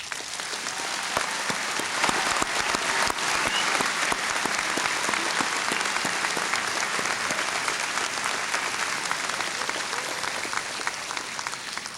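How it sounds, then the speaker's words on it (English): A commencement audience gives the graduates a round of applause, a dense, even wash of many hands clapping that holds steady and loud from start to finish. "could we have a round of applause for all the graduates?"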